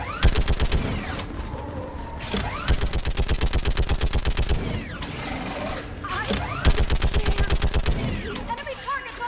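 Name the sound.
gunfire in the Mass Effect video game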